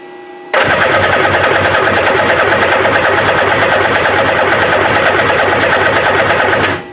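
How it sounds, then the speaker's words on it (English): Kawasaki ZXI 1100 jet ski engine with no spark being cranked, a loud, rapid, steady whirring of the starter motor that begins abruptly and runs for about six seconds before stopping. "We'll crank the engine again."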